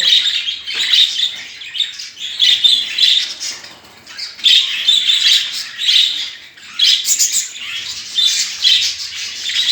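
Caged budgerigars, including a newly paired albino hen and white cock, chirp and squawk in a busy, continuous stream of bright, overlapping calls that swell and dip throughout.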